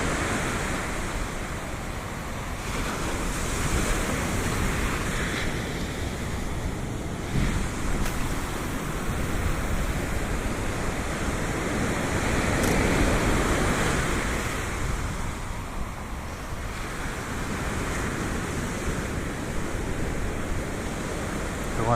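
Ocean surf breaks steadily on a Durban beach near a sandbank, a loud continuous roar of crashing waves with gusts of wind buffeting the microphone and no talking.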